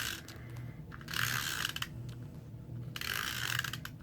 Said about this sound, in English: this is some snail adhesive